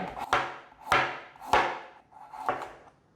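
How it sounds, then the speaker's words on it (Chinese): A knife slices through a peeled carrot on a cutting board, four crisp, evenly spaced chops with short pauses between them, close and clear with no talking. "把削了皮的红萝卜切下来，把红萝卜切片"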